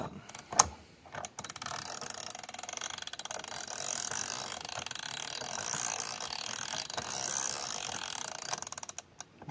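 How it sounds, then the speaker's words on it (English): A Hyper Tough ratcheting wrench tightening a bolt, giving a fast, steady run of close, crisp ratchet clicks for several seconds, with no voices. "let's see if we can get her tightened up here so we can hear the wrenching going on."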